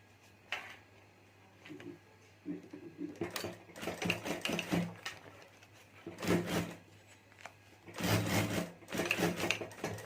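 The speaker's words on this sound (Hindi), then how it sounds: "तो यहाँ से हमें जिप मिला कर ये यहाँ साइड में सिलाई कर देनी है।" A sewing machine stitches the side seam of a clutch purse, with a zip attached, in bursts of rapid mechanical whirring and clattering, separated by short pauses and handling noises, close up.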